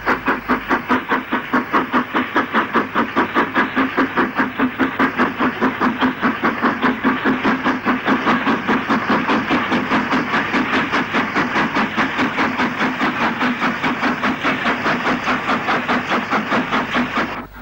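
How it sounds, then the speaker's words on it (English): A GWR Grange class steam locomotive passes beneath a bridge carrying the Camp Hill line near Birmingham in the 1960s, its rapid rhythmic exhaust beats and hiss loud and sustained throughout, with no voices. "She is followed by this Grange, under the bridge carrying the Midlands Camp Hill route."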